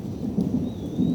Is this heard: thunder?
yes